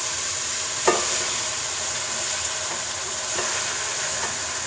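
Chicken pieces fry in spice paste for biryani, giving a steady close sizzle with a few sharp stirring clicks and scrapes spread through it, and no voices.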